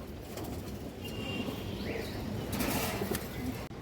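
Pigeons coo softly and continuously, a low throaty burbling close by, with faint wing rustles and a background murmur of activity.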